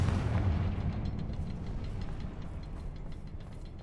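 The Confringo blasting spell in Hogwarts Legacy sets off a loud booming explosion, a heavy deep burst at the start followed by a crackling, rumbling decay that fades over several seconds.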